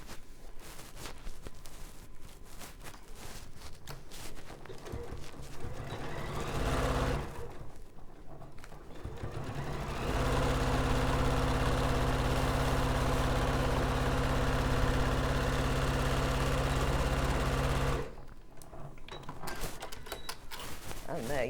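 Domestic sewing machine stitching fabric pieces of a scrappy stuffed bear's tummy along the centre seam, a steady mechanical run in two bursts of several seconds each, close and fairly loud, with short pauses between.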